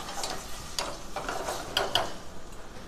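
Tomato gravy poured into sautéed masala in a pan for dhaba-style paneer masala, giving a soft, low sizzle with scattered light clinks and scrapes of a ladle against the metal.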